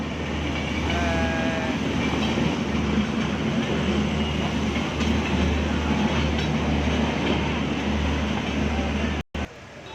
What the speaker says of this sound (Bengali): যাচ্ছে একটা রেল যাচ্ছে বিশাল বড় একটা রেল